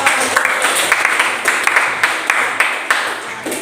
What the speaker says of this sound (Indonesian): Jadi, berikan tepuk tangan.